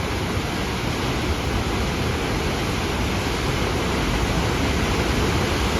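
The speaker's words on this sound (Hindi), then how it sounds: "वहाँ पे कितनी तेज़ आ रहा है वो पानी को।" Fast-flowing river water at Gangotri, a loud, steady, broadband rush that fills the whole stretch without a break, close and continuous with no voices over it.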